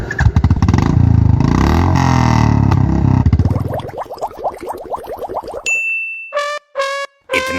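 A cartoon Bullet motorcycle starts with a loud, throbbing engine rumble that pulses and then fades as it rides off, followed by a few sharp bell-like dings.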